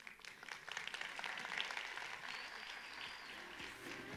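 Applause from an audience at a youth talk event swells into a steady, fairly close patter of many hands, with faint cheers and voices mixed into the clapping.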